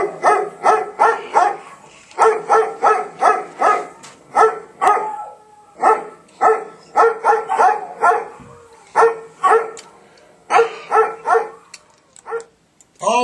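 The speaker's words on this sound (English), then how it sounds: "Always love that dog gag." A dog-barking sound effect used as a gag on a podcast, a loud close run of repeated barks in quick bursts with short pauses, alone without talk.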